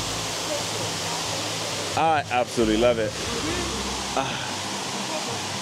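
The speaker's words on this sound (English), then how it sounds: "Look at this, guys. Non-stop waterfalls." A waterfall in Panama roars as a steady, broad rush of falling water that fills the whole stretch, while a person speaks briefly over it in the middle.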